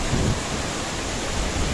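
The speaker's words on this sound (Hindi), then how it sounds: "पास में पानी बहुत तेज ऊपर से गिर रहा है।" Water crashes hard from above at a nearby waterfall, a loud, unbroken roaring wash with no pauses or voices.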